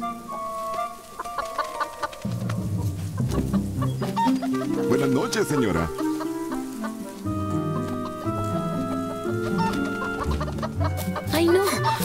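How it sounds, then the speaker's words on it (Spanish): A flock of hens belonging to an old Quaker woman clucks and squawks in a dramatized story, the birds mixed with busy background music while people speak over them. "¡Ay, no! ¡Mis gallinas!"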